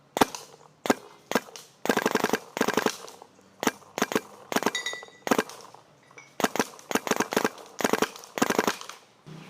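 A 2011 Proto Rail paintball marker fires in quick strings of sharp pops, with short bursts and single shots spaced by brief pauses, close and loud with no talking over them.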